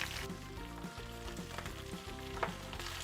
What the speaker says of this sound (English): I'm going to add my veggies, spinach,